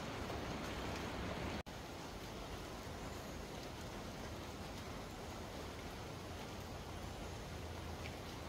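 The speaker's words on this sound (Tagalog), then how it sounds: "sisilong muna ako, umuulan eh." Steady, dense rainfall at the LuMonDo Hanging Bridge in Surigao with a constant hiss of drops on surfaces, broken by a brief dropout partway through.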